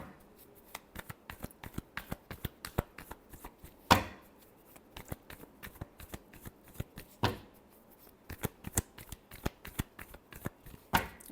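A deck of cards is shuffled close by in a quiet room. Crisp riffles and rapid ticking flutters repeat in quick bursts, with a few louder riffle runs standing out.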